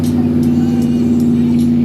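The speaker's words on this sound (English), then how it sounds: "That guy's got a stall converter in there." At a Route 66 cruise gathering, a car fitted with a stall converter holds a loud, steady engine note at close range, a constant throaty drone with no talking over it.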